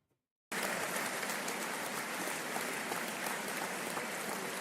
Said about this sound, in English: Where's the applause? There's the applause.